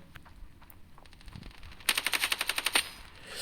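Machine gun fire in the shooter game Standoff 2: a quiet stretch with faint scattered shots, then a loud, close, rapid burst of about a dozen evenly spaced rounds, with no talk.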